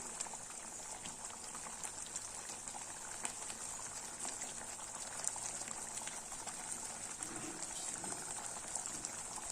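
Milk boils steadily in a pot, a continuous bubbling hiss at low volume with no talking.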